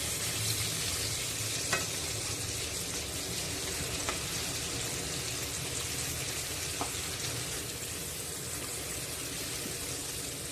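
Jitada (barramundi) fish fries on a non-stick tawa with a steady, close sizzle and crackle, broken by a few faint clicks.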